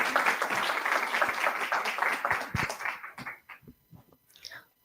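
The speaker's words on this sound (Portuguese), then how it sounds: "Uma salva de palmas para as 2 também." Audience applause at a Brazilian lecture event, a dense crackle of clapping with murmuring voices underneath that thins out partway through, leaving scattered sounds and a brief voice.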